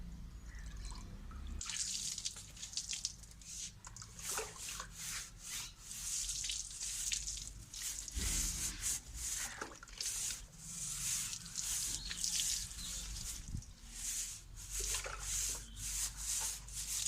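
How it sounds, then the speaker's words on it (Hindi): Charpai beds being washed with water and scrubbed, a continuous wet brushing and rubbing with rhythmic strokes, dripping and splashing throughout, close and steady over about seventeen seconds. "तो सबसे पहले आज हम चारपाइयाँ धोएंगे"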